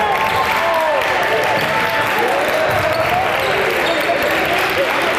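Steady roar of a crowd cheering and applauding at a high school boys basketball game in a gym, loud and sustained, with voices and court noise mixed into the noise.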